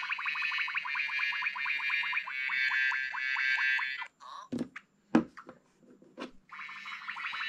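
A bright LEGO Mario electronic toy water sound effect with rapid warbling, bubbly tones, broken by a few sharp knocks and short blips before the burbling resumes.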